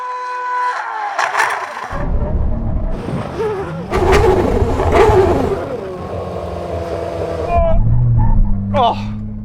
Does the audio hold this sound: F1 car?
yes